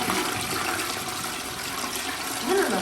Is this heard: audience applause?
no